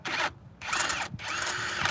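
Loud whining bursts of a power drill straining under heavy torque load during car work, three long runs separated by short pauses.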